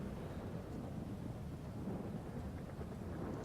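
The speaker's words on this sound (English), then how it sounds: "It's raining like crazy, man." Heavy rain with rumbling thunder in a police-patrol video game, a dense, steady roar of downpour filling the scene at moderate volume without any talking.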